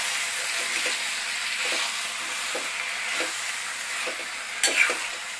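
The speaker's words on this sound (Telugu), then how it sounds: "పన్నీర్ వేసుకున్నాక ఒక్కసారి ఇలా కలిపేసుకున్న తర్వాత" Paneer being stirred into cooked spinach and fenugreek leaves for methi palak paneer, with soft rhythmic scraping strokes over a steady background sizzle and hiss.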